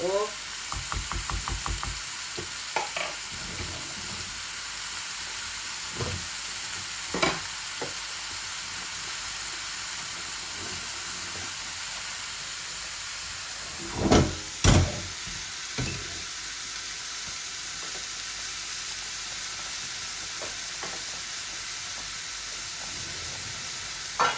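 Sweet potato pieces with their skins on fry in a pan under a soft, steady sizzle, with a few scattered knocks and clinks of stirring.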